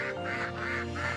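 A duck on the Thames and Severn canal quacks in a quick series of four or five nasal calls, close and fairly loud over steady outdoor background noise.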